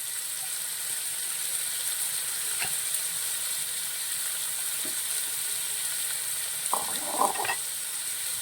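Chopped beans and carrots sizzle in a hot pan for chicken fried rice, a steady faint hiss of frying with a few soft clinks and stirring scrapes near the end, no talking.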